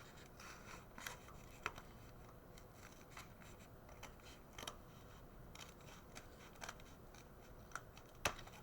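A triangle is cut out of material with a box cutter knife, a series of faint scratchy scraping strokes with irregular pauses and a few sharper clicks, close and quiet.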